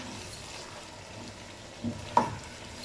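Green chillies are stirred into Shinwari karahi in a pan, with a faint low sizzle throughout and two sharp utensil clinks near the end.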